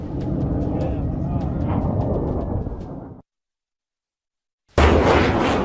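A missile launch in war news footage from the Israel–Iran conflict: a fierce, sustained roar for about three seconds that drops abruptly to silence, followed by another loud, sudden burst of noise.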